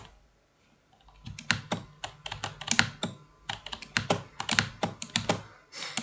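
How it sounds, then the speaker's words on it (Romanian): Someone types on a computer keyboard, quick clattering keystrokes in bursts with a loud, thudding space bar, close and alone after a quiet start. "Ce se aude așa tare space-ul de la tastatură"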